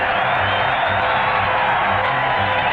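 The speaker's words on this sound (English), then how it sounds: "The crowd's going crazy here at the stadium." A stadium crowd at a televised fight roars in a steady, dense wall of cheering and shouting, loud and continuous throughout, with no distinct single voices.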